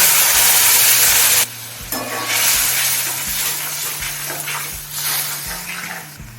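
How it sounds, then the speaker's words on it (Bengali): Spice paste with a splash of water is stirred and fried over high flame for a taro-stem and fish curry, a loud close sizzle that drops and swells as the spatula scrapes, with a low steady hum underneath. "এখন হাই ফ্লেমে মশলাটা ভালোভাবে কষিয়ে নেব"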